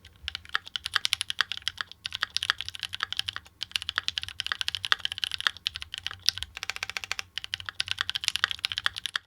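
Typing on a Keychron Q2 mechanical keyboard with switches lubed with Krytox 205G0 and filmed: rapid, close clacks in dense bursts with brief pauses between runs, no voices.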